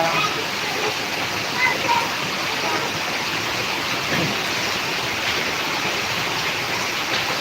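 Heavy rain and rushing floodwater during extreme rainfall in Karnataka, a steady, dense, loud roar of pouring and flowing water that continues unbroken throughout, with no clear voices standing out above it.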